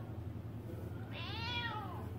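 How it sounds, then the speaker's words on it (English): A cat gives a single clear, rising-then-falling meow about a second in, close and distinct over a steady low background hum. "say meow."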